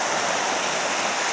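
Waterfall on a farm pouring over rocks, a dense, constant rushing roar heard close and loud with no pauses.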